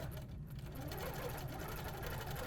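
An HQ longarm quilting machine driven by a Pro-Stitcher stitches a quilt with a fast, even mechanical whir and rapid needle rhythm, steady and fairly close throughout.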